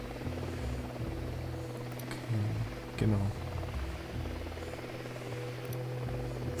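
An enemy Unidad helicopter in Ghost Recon Wildlands thrums as a steady, low rotor drone throughout, kept at a moderate level while a player speaks briefly over it.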